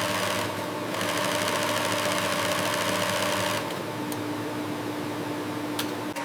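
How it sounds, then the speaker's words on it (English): Industrial sewing machines stitch seams in clothing at high speed in a wool garment factory, a continuous dense mechanical whir with steady rhythmic stitching and a couple of faint clicks, no talk. "Industrial sewing machines stitch seams at high speed."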